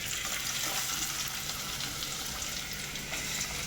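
Onions fry in a pan on a home stove, giving a steady, continuous sizzle that stays even and close throughout, with no voices over it.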